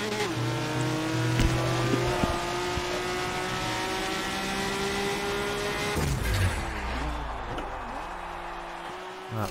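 Race car engines roar steadily through an A-class online lobby race in a racing video game, the revving pitch climbing and shifting with a sharp gear change midway, continuous and close throughout.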